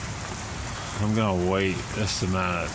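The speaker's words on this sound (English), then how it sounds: "I'm gonna get soaked. Look at it rain." Steady rain pours down outdoors in an even, close hiss throughout, while someone speaks over it partway through.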